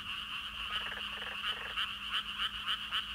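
Common tree frogs calling at the edge of rice paddies, a steady chorus of rapid, pulsing croaks repeating throughout, fairly close and continuous with no voices.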